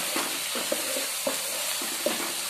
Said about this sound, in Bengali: দেওয়ার পরে একটু এটাকে তেলের মধ্যে ভেজে নিচ্ছি